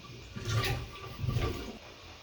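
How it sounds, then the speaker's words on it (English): A plunger working water out of a toilet bowl during a leaking-toilet replacement, two quiet sloshing, gurgling pushes close by with no voices. "I'm going to grab a plunger and plunge this bowl out just to get the water out."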